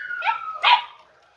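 An Andalusian podenco puppy lets out a couple of close, high yelping barks with a whimpering tone, the second yip louder before it fades into quiet.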